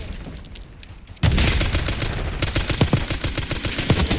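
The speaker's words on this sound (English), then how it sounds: "I'll just be shooting you for the next 20 minutes!" Rapid automatic gunfire in Call of Duty: Black Ops 6 bursts in abruptly after a quiet lead-in, a loud, continuous rattle of shots with sharp individual cracks, close and dominant.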